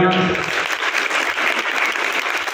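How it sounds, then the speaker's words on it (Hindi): Loud, dense applause from an audience honoring NSS camp teachers and officers at a state camp welcome ceremony, steady clapping filling the whole stretch after a brief voice at the start. "उनके लिए एक बार जोरदार तालियां"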